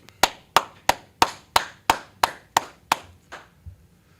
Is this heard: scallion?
no